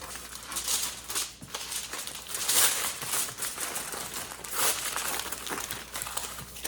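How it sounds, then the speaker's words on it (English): Bread being wrapped in aluminum foil in a hotel room, with close, continuous crinkling and crumpling bursts as the sheet is folded around it. "I will take the bread, the aluminum foil, wrap it all up"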